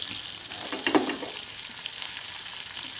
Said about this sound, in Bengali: দু চামচ মতো তেল দিয়ে সর্ষে ফোড়ন দিয়ে দিয়েছি আর সাথেই দিয়ে দেবো এক চামচ ছোলার ডাল আর দিয়ে দেব কিছু কারি পাতা কুচি